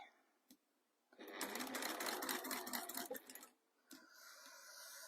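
A sewing machine stitches fabric in a close, steady whirring run of about two and a half seconds, followed by a quieter second burst after a short pause.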